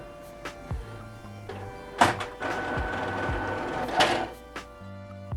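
A Canon Pixma TS3150 inkjet printer runs its paper roller cleaning cycle, with motor whirring, repeated mechanical clicks and clunks, and two louder bursts of rolling rattle, all close and without talk.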